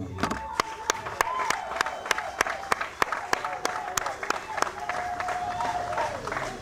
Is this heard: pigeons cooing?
no